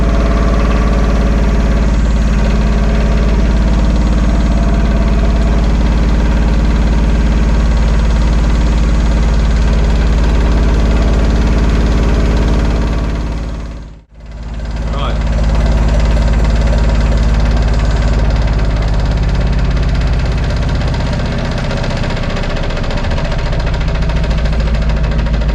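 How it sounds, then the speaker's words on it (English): Wood lathe running at 1070 RPM while turning a walnut cake stand, a loud steady motor hum with a rattling vibration that briefly drops out near the middle and then returns at full strength. "I've got the lathe turned up to 1070 RPM. It's kind of making everything"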